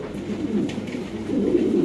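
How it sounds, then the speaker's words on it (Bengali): Pigeons coo close by in low, throaty, rolling calls that run continuously through the moment, loud and clear over light background noise. "দেখেন, ডাক কিভাবে ডাকতেছে কবুতর"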